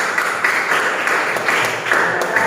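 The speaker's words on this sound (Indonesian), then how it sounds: "tepuk tangan untuk kelompok Paris." Classroom applause for a student group, a dense, continuous patter of many hands clapping at moderate volume, swelling slightly in places.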